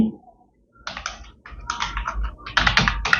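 Typing on a computer keyboard in MS Word, close and clear: bursts of rapid key clicks separated by short pauses, growing denser toward the end, with no voices.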